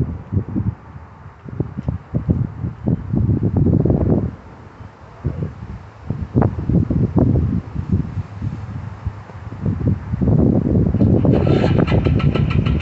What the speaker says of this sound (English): So about to hit this thing with some starting fluid and crank her over for the first time